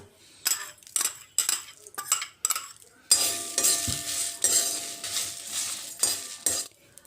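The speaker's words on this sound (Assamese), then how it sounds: "এতিয়া মই কেৰাহীত অকনমান শুকানে ভাজি লম" Whole spices dry roasted in a hot kadai for an Assamese pickle, scraping and rattling with a utensil in separate strokes before turning into continuous close stirring and clinking against the metal.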